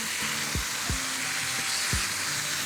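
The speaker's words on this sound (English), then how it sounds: "And the last couple of minutes, I add lemon to the fire or the pan." Lemon halves sear in a hot pan beside cooking chicken, a continuous crackling sizzle with a few soft thumps of movement in the pan.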